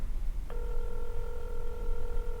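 A phone call rings out with a steady electronic ringback tone that starts abruptly and holds on a constant pitch for about two seconds over low background noise, with no speech.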